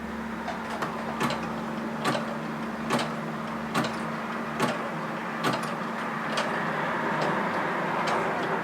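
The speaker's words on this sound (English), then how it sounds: "This machine will stop itself when it considers it's stitched enough." A sewing machine on its lowest speed stitches a button in place with the presser foot lowered, producing sharp, evenly spaced clicks under a steady motor hum.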